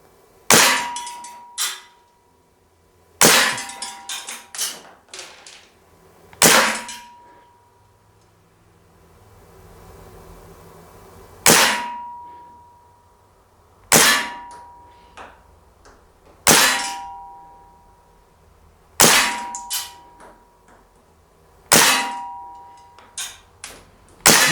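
An Air Venturi Springfield Armory M1 Carbine CO2 BB rifle fires at a target in the field, about nine sharp cracks with metallic ringing hits, spaced a few seconds apart with quiet gaps between them.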